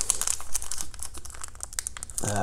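A foil trading card pack, 2019 Allen & Ginter, is torn open with close crinkling and tearing, a steady run of sharp rustles ending in a brief louder rip, with no talking.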